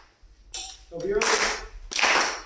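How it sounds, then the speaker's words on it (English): String players in a rehearsal clap a rhythm together, a few separate bursts of claps with short gaps, close and fairly loud, with voices briefly audible. "Clap it."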